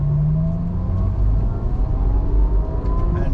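A 2014 Ferrari F12 Berlinetta engine pulling under throttle from inside the cabin, a steady loud low rumble with a rising tone as it accelerates.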